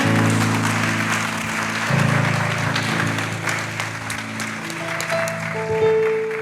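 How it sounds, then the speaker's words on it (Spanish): A church congregation at an evening family conference gives a long, steady round of applause while sustained organ or keyboard chords ring underneath. "¿Qué tal si usted levanta un fuerte aplauso al Señor?"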